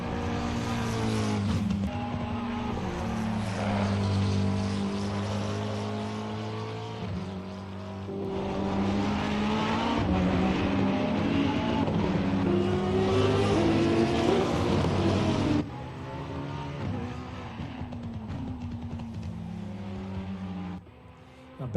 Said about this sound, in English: back on board with Sean in that amazing sounding McLaren.